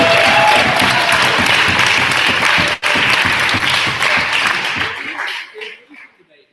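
An audience at a formal debate applauds loudly, a dense sustained roar of clapping that carries on for several seconds and then fades out to silence.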